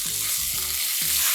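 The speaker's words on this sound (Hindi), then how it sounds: "उसके बाद इसके अंदर मैं डाल दूंगा जिंजर गार्लिक पेस्ट" Ginger garlic paste frying in hot oil with cumin seeds in a tadka for raw mango dal, a loud, continuous close sizzle with soft stirring scrapes and no talking.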